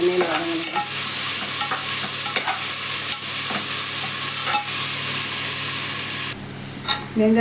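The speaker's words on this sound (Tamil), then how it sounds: "எண்ணெயில் வதங்கணும் வெங்காயம் நல்லா வதங்கிடுச்சுங்க" Onions frying in oil in a pan for tomato rice, a continuous close sizzle with occasional stirring scrapes, ending with a brief clatter as the hiss drops away.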